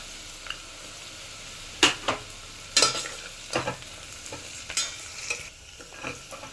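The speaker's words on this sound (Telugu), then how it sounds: "ఆనియన్స్ అండ్ ఆలు లైట్గా ఫ్రై అయ్యాయి." Onions and potatoes fry lightly in a pan over a medium flame, giving a soft continuous sizzle. Several sharper scraping stirs and clinks of a utensil rise above it at irregular intervals, close by.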